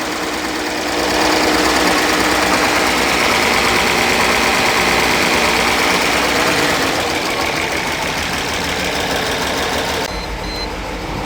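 A Mercedes SL600 that sat for years, now on bad gas, runs rough and misfires with a loud, steady, uneven engine drone that drops off near the end.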